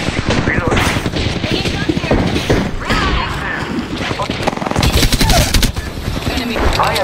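Rapid, loud bursts of automatic gunfire in a shooter video game, dense and overlapping for the whole stretch, with a voice talking over the shooting.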